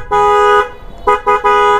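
Double horn fitted with a relay on an Apache RTR 160 4V motorcycle, sounding as one long loud two-tone honk followed by two shorter blasts, close and alone.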